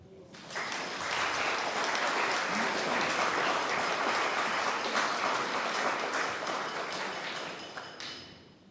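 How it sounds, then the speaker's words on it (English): Audience applause at an art society event, a full room clapping steadily for about eight seconds, rising quickly at the start and tapering off at the end. "I think that deserves a clap."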